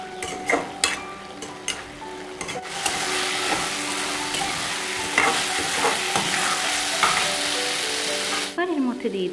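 Tiger prawns with Malabar spinach seeds sizzle steadily in a pan, with a few utensil taps and scrapes before the frying settles into a continuous hiss close by.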